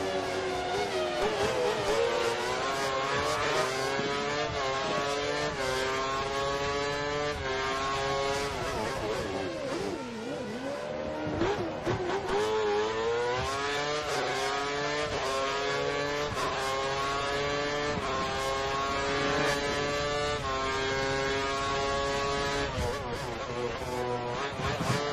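A Formula 1 race car engine in the F1 2013 game, racing at Bahrain, screams loud and close, its high whine rising through the gears and dropping on the downshifts in repeated sweeps as the car chases the one ahead.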